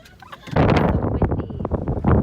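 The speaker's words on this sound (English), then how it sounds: "Windy." Outdoor wind buffets a handheld microphone in gusty, rumbling bursts, loud and close, swelling and dropping irregularly over a couple of seconds.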